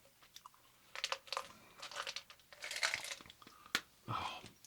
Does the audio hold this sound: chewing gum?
yes